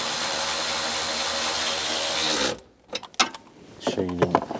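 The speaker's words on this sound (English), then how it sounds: "Get the nut started. Just tighten this one down." A power tool runs loud and steady while tightening a nut on a 1999-2006 Chevrolet Silverado 1500 turn signal lever, then stops abruptly into a few metallic clanks and handling knocks, with a brief voice near the end.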